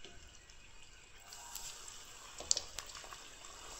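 Cooking oil is poured for frying Kenyan mandazi, a soft liquid hiss and trickle growing slightly with a few faint clinks, quiet and close.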